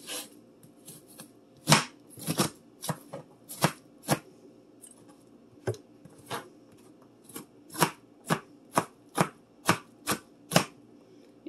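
A knife mincing onion on a cutting board, with a run of crisp close chops, irregular at first and then settling into a quicker, steady rhythm.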